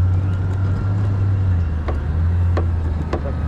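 An off-road vehicle rolling slowly through a campground at a big off-road event, its engine a steady, close low drone with a few faint knocks and clicks over the top.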